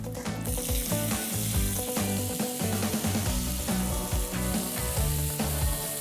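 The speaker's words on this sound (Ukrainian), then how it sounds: "Тепер цибуля і морква відправляються на сковорідку." Onion and carrot fry in a preheated pan for borscht with a busy, continuous sizzle and crackle, close and moderately loud, with no talking.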